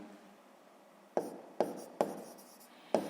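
A pen scratches on paper during a sixth-grade maths exercise, making four short, distinct strokes in the second half over a quiet room hiss, close and fairly soft, with no one speaking.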